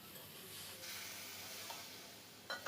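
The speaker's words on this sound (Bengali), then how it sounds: "এক মিনিটের মতন হালকা একটু নেড়ে নেবে মাছটা" Rohu fish pieces being stirred in a hot pan of oil for a Bengali red amaranth curry: a steady, fairly quiet sizzle and hiss with soft scraping of the spatula and a brief clatter near the end.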